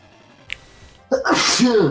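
A single loud, close sneeze bursts out after a brief sharp intake, ending abruptly with no talk around it.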